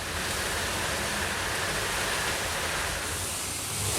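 Water rushing steadily as material is flushed down to the bottom chamber in a mega tunnel dig, a dense, unbroken roar with no voices.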